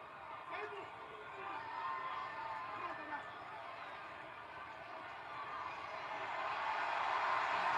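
A wrestling arena crowd at a Money in the Bank qualifying match makes a broad, distant roar of cheering and chatter that swells toward the end, with a commentator's voice running over it.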